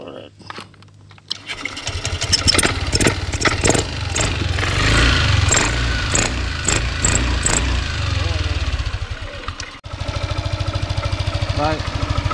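A Yamaha NVX 155 scooter engine cranks and fires after throttle body servicing, then settles into a close, steady idle with a brief cut and restart, with tool clicks and someone talking briefly beside it.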